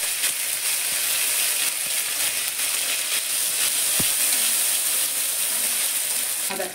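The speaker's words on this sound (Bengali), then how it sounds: "আদাটা ভাজা হয়ে গেছে।" Ginger sizzling in hot oil in a pan, tempered with fennel seeds and asafoetida for a vegetarian cauliflower paratha filling; a steady, close broadband sizzle runs throughout with a single faint clink near the middle.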